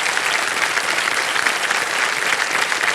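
Studio audience applause on the KBC quiz show set, dense sustained clapping from a crowd, steady and loud with no talk.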